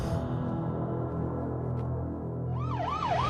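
An ambulance siren wails, rising and falling near the end, over a dense, loud background of crowd and street noise.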